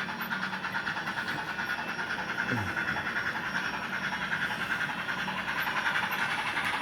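A model steam locomotive on a test run gives off a steady, rapid, even chuffing, fairly loud and close throughout, with no voices.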